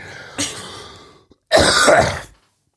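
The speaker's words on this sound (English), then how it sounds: "I still have a cough, listeners, so bear with me." A throat clearing followed by one harsh, loud cough from an adult close to the microphone, two separate bursts with a short pause between, and no talking.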